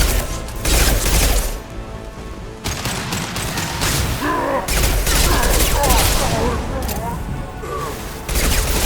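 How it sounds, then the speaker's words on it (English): Loud, dense bursts of gunfire and concussive blasts from the Mass Effect 2 Legendary Edition combat fill the scene, with repeated sharp impacts, brief pauses and a voice speaking over the action. "Firing concussive shot!"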